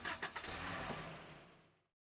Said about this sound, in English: Yep, that's a car noise.